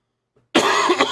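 A single harsh, close cough bursts out after a moment of silence and rasps on loudly to the end, with no talking.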